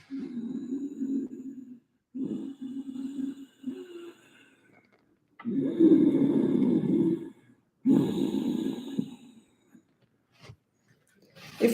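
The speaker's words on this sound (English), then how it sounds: "breath is also called the Darth Vader breath. And we do this by some little pressure in the throat so that the sound becomes audible." Ujjayi breathing drawn through a constricted throat, a series of rough, hissing breaths with audible rasp, several long inhales and exhales separated by short pauses, close and loud with no talking.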